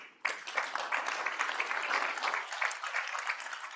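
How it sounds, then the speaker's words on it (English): A plenary audience at a sustainable transport forum breaks into sudden, steady applause to welcome a speaker onto the stage, the clapping bright and fairly distant, continuing evenly for a few seconds. "A big round of applause"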